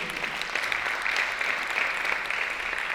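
Audience at a Ramadan festival presentation applauding a speaker, Mr. Jones, in a steady, sustained wash of clapping at moderate distance, holding even for the full three seconds with no voices rising above it.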